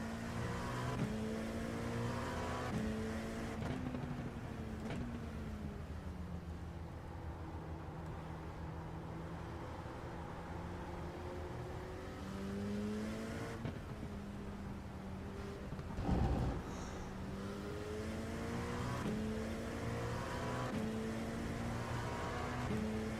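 Race car engine in the iRacing sim on an out lap, a steady loud drone with rising and falling pitch through gear changes, continuous throughout with no talk.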